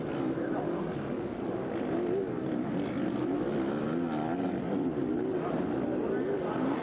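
Kawasaki motocross bikes race at a German MXGP qualifying session, their engines droning and wavering in pitch at a steady level under a talking commentator.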